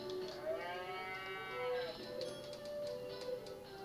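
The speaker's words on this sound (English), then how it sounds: "It's the mad cow." A cow in South Park: The Stick of Truth video game lets out a long, loud moo with a bending, wavering pitch, followed by shorter sounds over a steady background hum.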